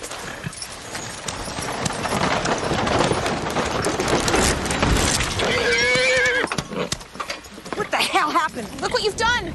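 Horse hooves clopping with a whinny on a Western frontier setting, heard amid ongoing speech and commotion; a sharp horse neigh rises near the end over the busy background.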